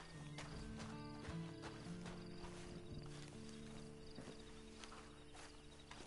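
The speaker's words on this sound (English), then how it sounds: "And you better get on this horse." Hooves of a horse in Red Dead Redemption 2 clip-clopping in an even walking rhythm, faint and quiet, with a few soft snorts and some ambient game sound underneath.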